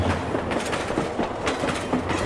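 Train rolling along the rails in a video game, a steady rumble with rhythmic clickety-clack of wheels, loud and continuous with no talking.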